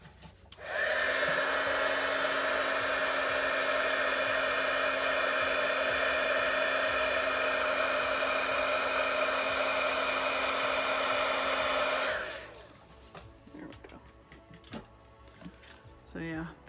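A heat gun blows steadily on metallic embossing powder on a card, a loud continuous whirring hum for about eleven seconds that then cuts off, followed by faint handling sounds.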